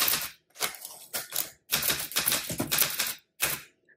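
A 1968 Olympia SM9 manual typewriter clatters through bursts of rapid keystrokes separated by short pauses, close and crisp, with a small bell-like ding near the end.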